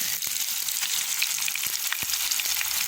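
Onions sweating in about three tablespoons of hot oil over high heat for a Trinidadian potato and chickpea curry, a steady close sizzle and crackle with a few stirring clicks throughout.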